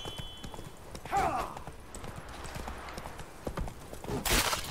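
Horse hooves gallop in a steady clip-clop rhythm while riding through Skellige in The Witcher 3 video game, with rustling game ambience and a bright swishing burst near the end.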